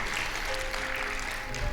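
A church congregation claps in a dense, steady wash of applause, fairly faint and distant, holding evenly throughout.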